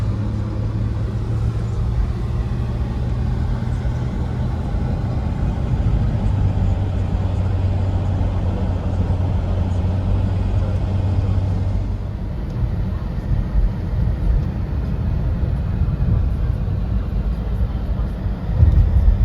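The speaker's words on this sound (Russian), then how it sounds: "Едем на такси по Еревану." Taxi ride through the streets of Yerevan, a steady low engine and road rumble from inside the car holding constant throughout, with a faint change in tone partway as traffic noise shifts.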